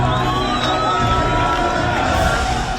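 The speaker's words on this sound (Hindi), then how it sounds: "हजारों की भीड़ उनका इस्तकबाल कर रही है।" A dense crowd of thousands cheers and shouts in celebration as released Palestinian prisoners are welcomed in the West Bank, a continuous loud roar with whoops and children's shouts throughout.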